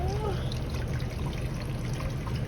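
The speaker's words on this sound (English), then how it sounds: "I'm going to be pouring back the juice inside of here" Liquid compost juice pours back into a container, a steady, close trickle and splash that runs without a break under a low background hum.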